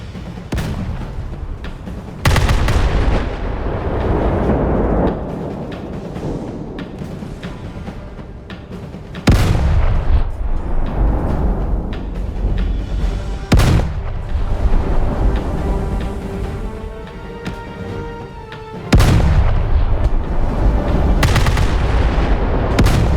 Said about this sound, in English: Oh, these 15-inch guns don't mess around.